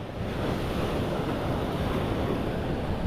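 Continuous roar of ocean surf with wind buffeting the microphone, steady and loud throughout with no voices.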